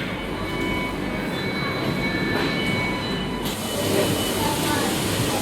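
An underground metro train at a station in Amsterdam rumbles steadily, with a broad, even roar of wheels and traction noise and faint squealing tones, heard up close with a slight shift in the noise partway through.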